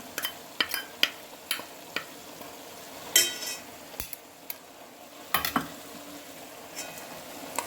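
A paste of white and black mustard, green chilli and salt, along with poppy seeds, fries in a pan while a spatula knocks and scrapes at intervals over a faint, steady sizzle.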